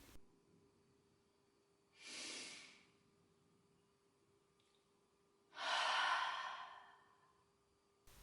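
Two deep breaths taken during a children's mindfulness exercise, each a soft, airy sigh-like exhale lasting under a second, the second longer and louder than the first, with quiet pauses around them.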